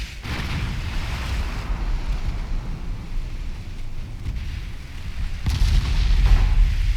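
Heavy 11-inch naval guns fire in the battleship game Ultimate Admiral Dreadnoughts, deep rumbling booms over a low continuous sea and engine drone, with a louder blast near the end.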